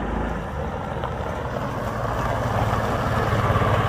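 A 2003 Kawasaki Mule utility vehicle engine idles steadily nearby, a continuous low rumble with a faint rise in level toward the end and no talk over it.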